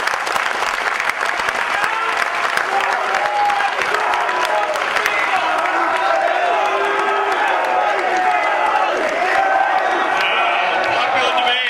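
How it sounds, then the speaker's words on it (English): Loud, sustained applause and cheering from the crowd at a football banquet, dense clapping filling the room without letup while voices call out and talk over it. "So give them a warm applause"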